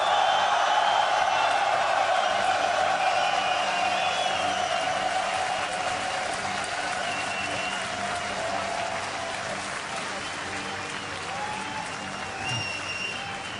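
Esports crowd at a StarCraft 2 match cheering and applauding steadily, a loud dense wash of clapping and shouts that slowly eases off over the stretch, with occasional whistles above.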